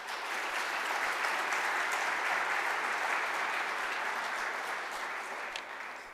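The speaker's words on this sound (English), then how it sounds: "give them a round of applause" An audience at a kickoff ceremony for the Ironside redevelopment in Newark gives sustained, even applause, a dense wash of clapping that holds steady before easing slightly near the end.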